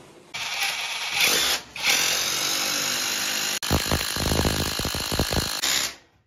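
Electric drill with an 8 mm bit boring a hole in tile while installing a bracket, a loud close whine that starts and stops in bursts and shifts to a rougher, pulsing grind partway through.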